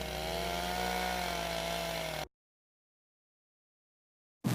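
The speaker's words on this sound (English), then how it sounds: "the tool every bar should have, a chainsaw" A chainsaw engine runs steadily at a high whine for a couple of seconds inside a bar, cuts to silence, then briefly roars again at the end.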